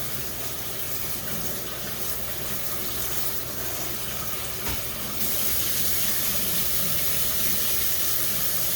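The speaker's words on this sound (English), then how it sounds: "the next thing I'm going to do is I'm going to rinse them." Cool tap water runs steadily over pinto beans in a colander in a kitchen sink, a constant rushing hiss that brightens and grows slightly louder partway through, with no talking.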